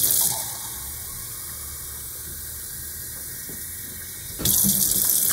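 A kitchen tap runs to fill a cup with water for a pitcher, a loud rushing gush that drops to a steadier, quieter flow as the cup fills, then surges loud again near the end, with no speech.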